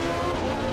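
Race car tires squealing under heavy understeer in Assetto Corsa Competizione, a steady, loud, continuous screech blended with engine drone through a 0.8-second stretch of a corner, with no talking.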